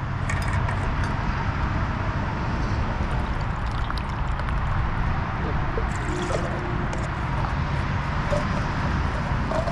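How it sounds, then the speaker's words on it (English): Boiling water poured into a camping meal pouch inside a car, a steady liquid pour with soft drips and squishing over constant broadband noise. "Carefully add 1 cup of boiling water."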